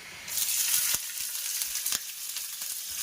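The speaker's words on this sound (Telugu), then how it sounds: "బిర్యానీ ఆకు, ఇవన్నీ మంచిగా ఫ్రై అయిన తర్వాత పచ్చిమిర్చి." Green chilies frying in hot oil with bay leaf, cumin and spices, a steady close sizzle with a few sharp clinks of a spoon against the pan.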